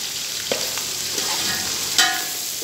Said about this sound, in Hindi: अच्छी तरीके से फ्राई करना है